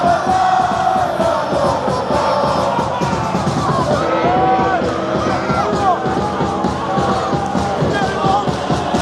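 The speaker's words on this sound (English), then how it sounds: "at least the away fans have something to cheer about" Away football supporters of a Dutch club roar, yell and chant together in a stadium after a consolation goal, a loud, dense crowd noise that goes on throughout.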